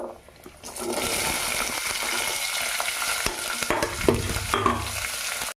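Vegetables frying in a pan for vegetable lemon rice (pulihora), with curry leaves: a steady, close hiss of sizzling oil with a few stirring knocks and scrapes, no talking.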